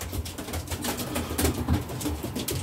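Racing pigeons coo steadily inside a loft, with a low, throaty, repeated cooing over a constant background of rustling and faint flutter, and no one speaking.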